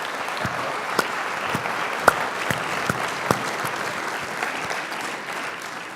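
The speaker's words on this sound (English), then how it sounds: "I will learn not to clap close to the microphone" Applause from a crowd at a public talk on Irish national sovereignty, with a few sharp, loud claps standing out right beside the microphone over steady clapping for about six seconds; no talking.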